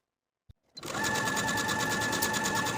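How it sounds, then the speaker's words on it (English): Sewing machine running steadily at speed while edge stitching sleeve ruffles of a ruffle top, a loud, close, continuous whir that starts after a small click and holds without a break. "edge stitch close to that inner fold all the way across both ruffles"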